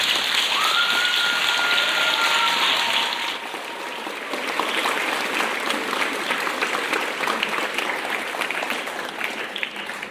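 Applause at a school inter-house awards presentation, a dense, steady clatter of many hands clapping that stays loud across the clip and eases slightly partway through.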